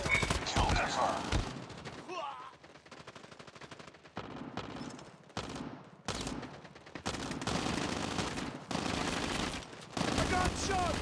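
Rapid automatic gunfire in a first-person shooter game, dense and loud bursts spread across the clip with brief pauses, with voices heard in between.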